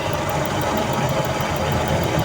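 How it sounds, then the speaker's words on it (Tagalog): A Toyota 2E or 4AF engine held at high revs during a distributor check gives a loud, steady, dense drone with a faint rapid pulse, with no voices. "i-rev ko yan oh. I-high rev ko siya."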